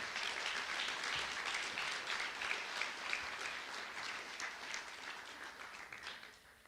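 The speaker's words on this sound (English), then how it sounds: "let's give a round of applause for our institution's ability to remain resilient" Audience applause fills a university societies dinner hall, a steady wash of many hands clapping at moderate, slightly distant volume that holds evenly before thinning toward the end.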